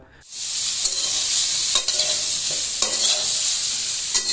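Onions frying in oil with spices, a steady close sizzle broken by a few scraping stirs, with no talk.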